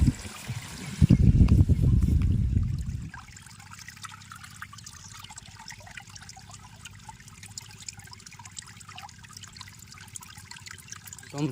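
Irrigation water pours from a pipe into a jute field in a village: a loud rushing gush for the first few seconds, then a steady, softer flow and trickle.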